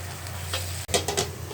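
Sweet jute greens are stirred in a hot pan, soft sizzling under a low kitchen hum, broken by a few scraping, clattering strokes of a spatula turning the leaves.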